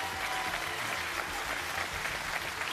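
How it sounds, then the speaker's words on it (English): Dense, steady applause from a crowd, sustained clapping at an even level throughout with no voices standing out. "Give our witnesses a big round of applause."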